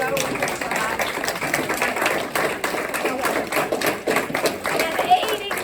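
Steady audience clapping at an annual board meeting fills the whole stretch, a dense patter of many hands with scattered louder claps, fairly close.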